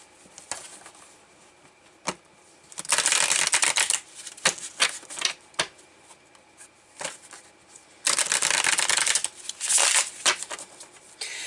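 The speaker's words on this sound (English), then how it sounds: "let's pull some tarot here" Tarot cards shuffled close up in two long riffling bursts, with quick flicks, taps and soft card handling in between and no talking.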